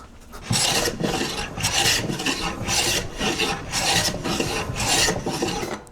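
Rasp shaving wood aggressively in steady, rapid back-and-forth strokes, loud and close, about six seconds of continuous coarse scraping.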